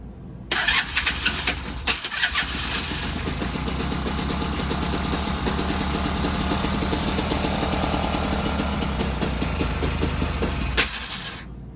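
A motorbike engine cranks and fires, then runs with a steady loud rumbling chug for several seconds before cutting off, close to the mic.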